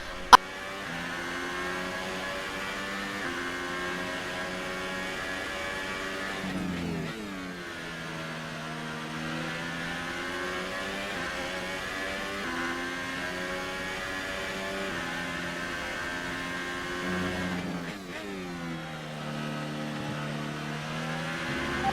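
A Formula 1 car in F1 2018 at the Bahrain Grand Prix, its high-pitched engine whining steadily up through the gears, dipping sharply at two gear changes or braking points before climbing again, with no voices over it.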